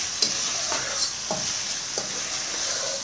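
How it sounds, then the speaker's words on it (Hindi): Garlic ginger paste and spices fry in a pan for butter chicken, sizzling steadily and closely, with several soft stirring scrapes spaced through the sizzle. "फिर अगेन 1 से 2 मिनट तक भूनें।"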